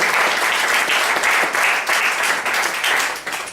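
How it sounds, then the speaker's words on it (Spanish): A church congregation at a Sunday service claps loudly and continuously, a dense, steady wave of applause that begins to fade at the very end. "Denle un aplauso fuerte al Señor."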